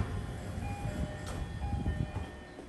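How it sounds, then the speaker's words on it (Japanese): A JR Kyushu YC1 series train pulls into a station, a steady low rumble of wheels and motor with faint tonal whines rising and falling across the approach. "さあ、乗り込む列車がやってきました。"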